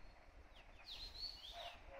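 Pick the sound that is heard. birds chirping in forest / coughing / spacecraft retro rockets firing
birds chirping in forest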